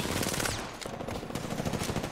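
Rapid automatic gunfire from Apex Legends rattles in dense, loud bursts, with sharp repeated shots crowding together and echoing for two seconds.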